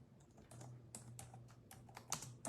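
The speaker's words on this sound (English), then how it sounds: "Let me type and see who's here." Quiet, close typing on a computer keyboard, a run of light irregular key clicks with no voices.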